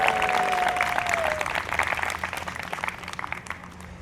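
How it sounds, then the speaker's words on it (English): Audience applause for the Harwich Town Band at a summer concert, a crowd clapping steadily that gradually thins into scattered claps, with a brief tonal squeal at the start. "about another round of applause for the Harwich Town Band?"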